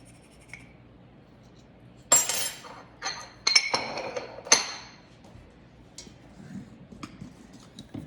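Sourdough bread dough being mixed with salt in a bowl, heard as a few sharp clinks and scraping knocks in short bursts against a quiet background.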